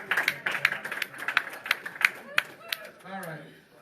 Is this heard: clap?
yes